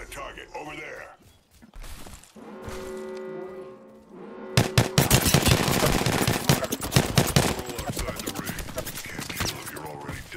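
Gunfire in Apex Legends starts with scattered shots, then turns into long, rapid automatic bursts that are loud and close, with a voice talking over parts of it.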